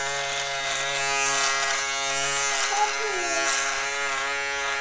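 Andis and Myrsol electric shaver running in a steady, close, loud buzz through the whole stretch, with slight changes in pitch as it moves over the skin, with no other sound on top.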